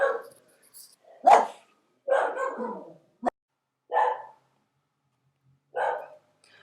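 Small pet dogs bark in sharp, separate bursts, about six in all, spaced irregularly and fairly close, with quiet gaps between them.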